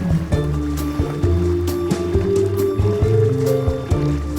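Ocean water sloshes and splashes around a snorkeler floating near the surface, a close series of uneven wet slaps and gurgles over a steady low rumble, with no talking.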